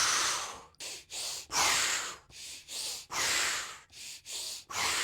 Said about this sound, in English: Then you breathe out all at once